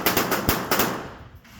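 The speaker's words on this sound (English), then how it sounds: "these guys are doing the rapid fire, which is 4 targets in 5 seconds" Rapid-fire pistol shots at an outdoor pistol club, four sharp reports in quick succession within about a second, loud and close, trailing off into quiet range ambience.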